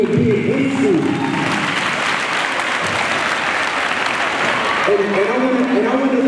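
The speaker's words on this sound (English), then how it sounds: "Give yourself a round of applause for even being in school" Students at a middle school anti-bullying assembly burst into loud, sustained applause that fills the whole hall, with a voice speaking over the start and again as the clapping begins to fade.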